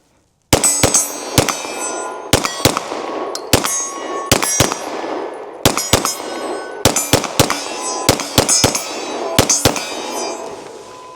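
Rapid pistol shots from a Canik SFT sidearm, fired outdoors in winter cold, crack out sharply in irregular bursts of two and three, loud and close with ringing decay, no talking.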